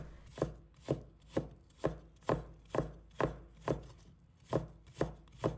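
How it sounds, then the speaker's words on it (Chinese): A knife chops fresh ginger into thin shreds on a cutting board, about a dozen crisp, evenly spaced strokes at a steady rhythm, close and clear with no talking. "1块生姜，将它切成姜丝，切的时候可得稳住刀，让姜丝粗细一致"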